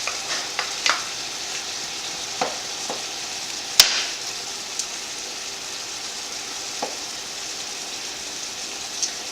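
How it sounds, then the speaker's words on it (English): Chicken and onions frying in a pan give a soft, steady sizzle, broken by a few scattered pops and one sharp clack of a utensil against the pan. "After you get your chicken cooked, you want to add your onions."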